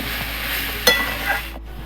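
Soft sizzling of ridge gourd frying in a pan, with a sharp metallic clink and scrape of stirring midway, close and fairly quiet.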